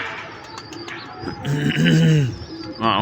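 Pigeons in a home loft, including an old-breed khaki male, give a few soft throaty coos up close, the loudest rolling coo in the middle of the short stretch.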